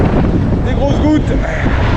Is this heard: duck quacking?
no